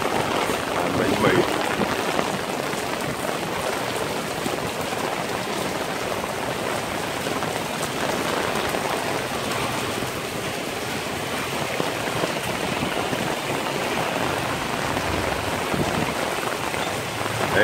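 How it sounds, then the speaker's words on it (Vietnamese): Heavy rain pours over a street in Saigon, a dense, unbroken hiss of drops striking surfaces that stays loud and even throughout. "Ở đây là cái cơn mưa rất là lớn ở Việt Nam"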